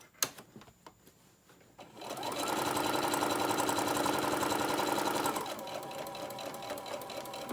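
A sewing machine stitches the last seam of a fabric tote bag, a steady rapid mechanical whir starting after a few soft clicks and running loudly for about three seconds before easing to a lighter chatter.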